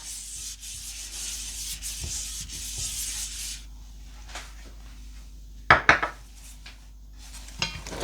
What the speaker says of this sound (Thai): ทาให้ทั่วกระทะค่ะทาบางๆค่ะให้ทั่วกระทะนะคะ